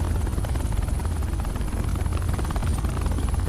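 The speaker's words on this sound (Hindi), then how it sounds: "ये हेलीकॉप्टर सीधे एयरपोर्ट के टारगेट पे लैंड होगा।" A helicopter flies close by, its rotor chop pulsing in a loud, continuous drone with a faint high whine on top, no talk over it.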